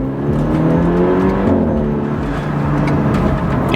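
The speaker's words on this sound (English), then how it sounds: "Car is running great with boot mode." Car engine running steadily on a boot mode stage 1 93-octane tune with burble settings, a loud continuous drone with a slight rise in pitch partway, close by and without talk.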